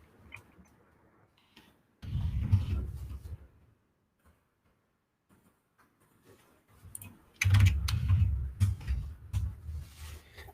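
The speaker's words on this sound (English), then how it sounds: "Then I'm going to start typing this out." Quick bursts of clicks from typing on a computer keyboard, heard as two clusters of rapid, close keystrokes separated by a quiet pause.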